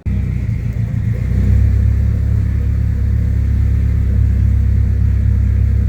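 A Subaru Bug car engine runs loud and close, a steady low rumble with rising revs as the car is maneuvered, no talking over it.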